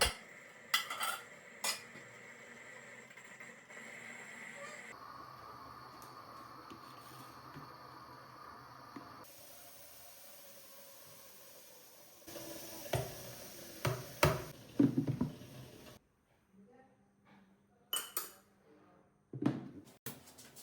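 A steel coconut-shell puttu maker is handled and set onto a pressure cooker in a home kitchen, with scattered metallic clinks, taps and scrapes coming in bursts between quieter stretches, close and moderately loud.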